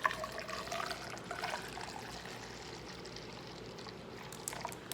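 Water poured into a small bottle while brewing apple cider vinegar, a steady close splashing, trickling flow lasting several seconds with no voices.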